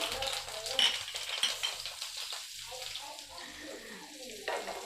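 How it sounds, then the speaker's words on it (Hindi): Onion and curry leaves fry in overheated oil that hisses and crackles, with sharp spattering pops, a stirring spoon and faint clinks, fairly close and loudest at the start before easing. "असल में तेल ज़्यादा गर्म हो गया है तो वो छींटे ज़्यादा उड़ रही हैं"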